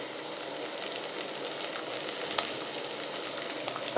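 Meat fries crisply in a pan for spaghetti as spring onions are added, giving a bright, continuous sizzle with scattered crackles that grows slightly louder toward the end.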